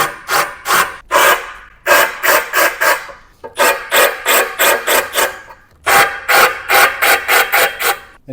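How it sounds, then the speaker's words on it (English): A hand countersink bit grinds into solid oak on a pool table in rapid back-and-forth rasping strokes, grouped in bursts with short pauses, loud and close. "do a little countersink"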